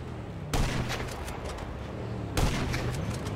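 Gunfire in GTA V: two heavy, booming shots about two seconds apart, each with a sharp attack and a rumbling tail over a constant noisy background.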